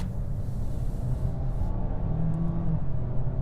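A 2022 Ford Maverick Lariat with a 2.0-litre engine and all-wheel drive accelerates into traffic, heard as a steady low engine rumble from inside the cabin with road noise and no talk.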